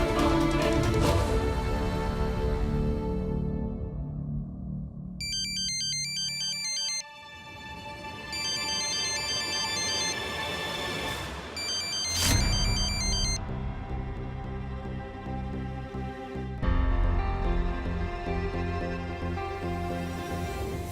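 An electronic ringtone with repeated melodic beeps plays over dramatic background music in a Hindi TV serial scene, the ring moderately loud and recurring in bursts.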